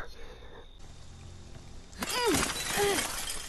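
Window glass shatters in Friday the 13th: The Game, a loud crashing break near the middle followed by tinkling shards, with someone speaking over it and quiet game ambience before.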